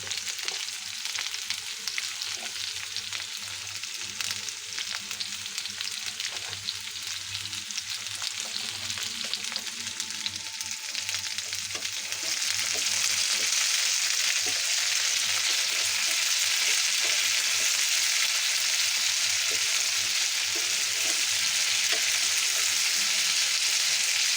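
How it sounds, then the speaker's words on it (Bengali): Chilies with garlic cloves and salt fry in hot oil, giving a continuous sizzle that grows louder and brighter midway, with occasional soft stirring scrapes, up close and without speech. "এখন আমি মরিচ কিছুটা নাড়াচাড়া করে আমি এখন রসুনের কোয়াগুলো দিয়ে দিব"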